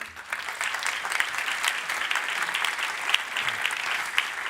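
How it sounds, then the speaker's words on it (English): Steady applause from an audience fills the room, many hands clapping continuously at a fairly loud level. "I'd like you to give them a big round of applause."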